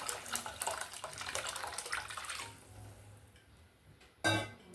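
Tomato-tamarind rasam liquid is poured into a pan of tempering for rasam, a steady splashing pour that runs for a few seconds, fades, then ends with a short loud splash.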